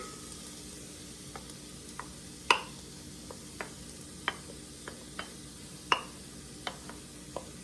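Onion and garlic sautéing in oil in an Instant Pot's inner pot, a low steady sizzle with scattered sharp clicks and taps of a utensil against the pot.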